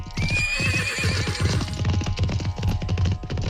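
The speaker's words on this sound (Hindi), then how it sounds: "राजा लॉयस के घोड़े खाली रथ के साथ वापस थीब्स आते हैं" Horses neigh loudly as hooves clop in a quick, close rhythm, pulling an empty chariot back toward ancient Thebes.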